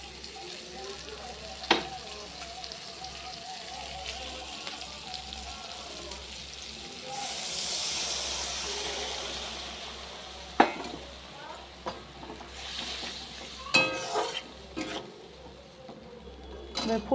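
A mixture of cornflour, tomato ketchup, soy sauce and water added to a pan of chilli chicken gravy, giving a soft steady sizzle with occasional utensil clinks and scrapes against the pan.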